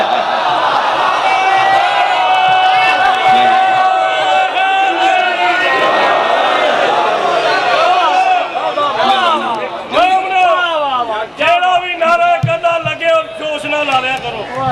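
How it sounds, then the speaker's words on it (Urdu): A crowd at a religious gathering in Multan chants slogans, with many voices shouting together in loud, rhythmic bursts. The chanting follows a stretch of amplified speech and then carries on in repeated waves. "نعرے لگتے رہن گے"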